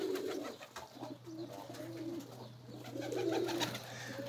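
Pigeons cooing in a rooftop loft, soft rolling coos repeating close by over a low steady background hum, with faint rustling between calls.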